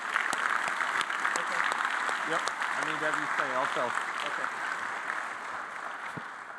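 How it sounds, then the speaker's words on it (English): Graduation-ceremony audience applauding steadily in a hall, a continuous wash of clapping that slowly fades, with someone speaking briefly over it. "Let's give him one more round of applause."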